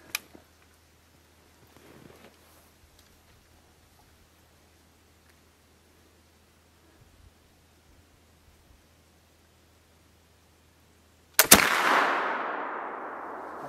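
A single loud flintlock muzzleloader rifle shot, an engraved rifle being fired for the first time, bursts out near the end after a long quiet stretch broken only by faint handling clicks, its roar trailing off slowly.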